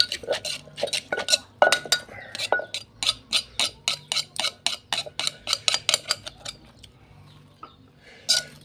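Green papaya salad pounded in a mortar, with rhythmic wooden thuds landing about twice a second, close and loud, slowing and pausing near the end while hens cluck faintly in the background.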